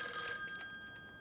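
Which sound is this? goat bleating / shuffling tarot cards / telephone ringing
telephone ringing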